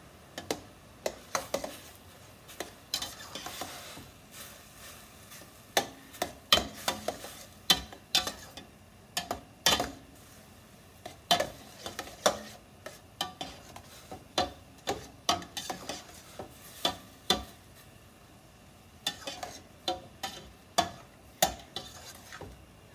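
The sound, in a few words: ground meat cooking in a pan for sloppy joes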